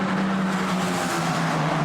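A Formula 4 race car at the Red Bull Ring, a loud steady engine drone held at high revs for a brief moment as it passes close by.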